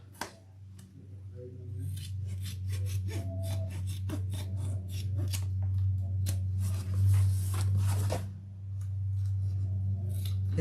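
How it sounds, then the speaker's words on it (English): Close-up scissors snip again and again, in irregular quick cuts over a low steady hum, as a sewer trims the seams and corners of a fabric bag. "Very exciting moment to watch Barbie trim her seams."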